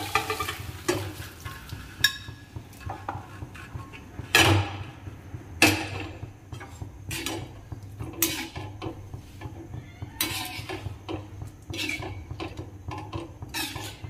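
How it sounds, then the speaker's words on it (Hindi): Already boiled rajma is stirred into gravy in a pan, with a low bubbling sizzle throughout and repeated sharp clinks and scrapes of the spoon against the metal pan. "उस राजमा को हम इसमें पलट देंगे।"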